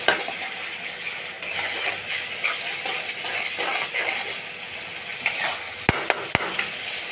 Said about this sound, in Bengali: জিরে ধনে গুঁড়ো সব কিছু দিয়ে ভালো করে মশলাটা কষিয়ে নেব যতক্ষণ না তেল ছাড়ে